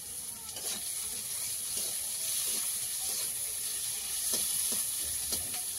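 Chopped onion and slit green chilies frying in hot oil in a pan that has just been used for frying fish, giving a steady, close sizzle with faint crackles and the occasional stir.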